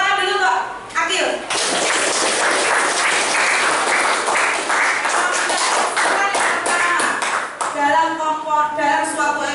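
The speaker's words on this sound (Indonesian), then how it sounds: "Oke, beri tepuk tangan dulu Kak Akil." A classroom of students applauds a classmate, with brisk, dense clapping filling the room for several seconds, bracketed by teacher talk before and after.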